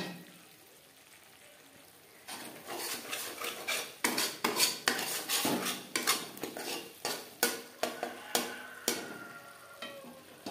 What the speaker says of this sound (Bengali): গ্যাসের ফ্লেমটাকে লোতে রেখে 2-3 মিনিট একটু নাড়াচাড়া করে দেবো